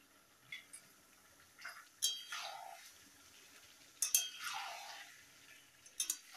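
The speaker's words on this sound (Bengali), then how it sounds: "সব কিছু দিয়ে ভালো করে আমি কষিয়ে নিচ্ছি।" Chicken pieces being sautéed and stirred with spices and turmeric in a pot, heard as scattered metallic clinks and scrapes of a spoon against the vessel, a few sharper knocks spaced through the quiet stretch.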